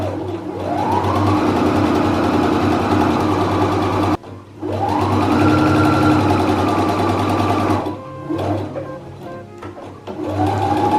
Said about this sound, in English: Now what we're gonna do is sew down this line right here, and also sew down this line